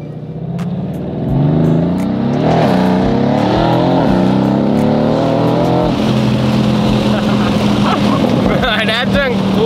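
A twin-turbo Lamborghini Huracan engine revs loudly and aggressively, climbing and falling through several sweeping pulls before settling into a steady roar, close and dominant, with brief talk and exclamations from the occupants over it.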